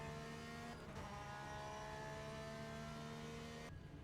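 A race car engine in the Le Mans Ultimate sim racing game drones steadily at high revs while passing an Aston Martin. The engine note and its harmonic tones run continuously and loud, with a brief shift near the start and another near the end.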